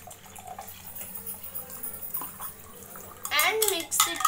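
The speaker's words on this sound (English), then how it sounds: "Now we will add half glass of water." Water is poured into a glass of lemonade mix made with lemon, chaat masala and sugar, a trickling, splashing stream that grows louder near the end, with a brief voice heard at the close.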